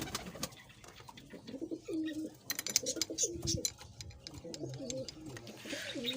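A racing pigeon lands and settles nearby, its soft throaty cooing rising and falling while other birds chirp around it and people talk in the background.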